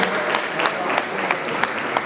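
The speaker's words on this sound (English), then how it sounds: "Let's give him a round of applause one more time." A dinner-fundraiser audience applauds Representative Lamont Robinson with a steady, dense wash of clapping from many hands that holds evenly throughout, fairly loud, with no break.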